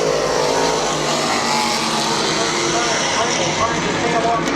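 Race cars roar around Midvale Speedway on a final lap, a dense, steady wall of engine noise from several cars running close together, with an announcer talking over the top.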